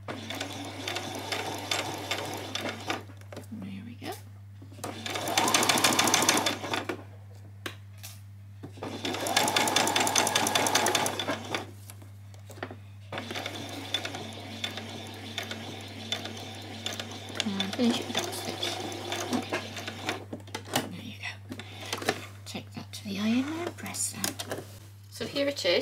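A sewing machine stitches a continuous skirt placket in loud whirring bursts that stop and start between quieter handling noises, with a steady hum underneath and a person talking through most of it.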